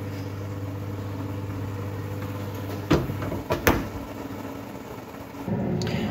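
An oven door clunks open and shut with a couple of sharp knocks as a cake goes in to bake, heard over a steady low hum from a preheated kitchen oven.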